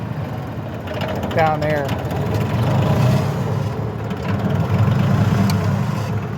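A Cub Cadet mower with a Yanmar diesel engine idles nearby with a steady low rumble and a slight rise in revs, while someone talks over it.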